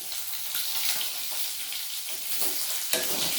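Chopped green chilli and five-spice seeds being stirred in hot oil in a frying pan, a steady close sizzle with scraping stir strokes throughout, no voices.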